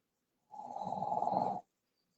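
A dog snores once, a single close, rasping inhale lasting about a second, alone in a quiet room.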